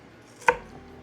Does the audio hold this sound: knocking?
no